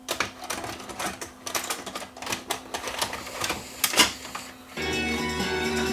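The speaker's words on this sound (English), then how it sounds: "Drum motor and everything's coming on now" A Toshiba D-VR7 VCR with a fault that keeps the tape from moving forward, whose drum motor spins up after a run of mechanical clicks and clatter, settling into a steady close hum and whir.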